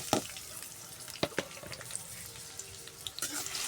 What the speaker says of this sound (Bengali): এখন এর মধ্যে পেঁয়াজ দিয়ে দেবো।